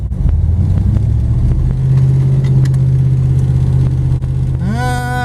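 A Plymouth Duster 318 V8 engine drones steadily at low pitch on an uphill run, then revs up near the end, rising in pitch as it accelerates; loud and close throughout.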